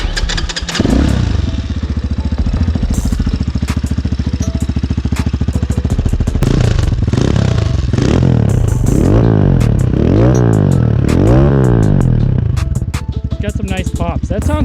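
An X PRO Titan 250 DLX street-legal dirt bike engine cranks, fires and settles into a loud, close idle, with a few rhythmic throttle blips revving it up and down toward the end.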